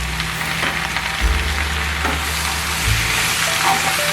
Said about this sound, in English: Now it's time to add soy sauce.